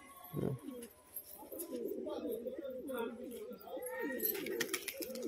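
Pigeons cooing in low rolling bursts close by, with a brief flutter of wings at the start and light chirps later, while a person talks over them.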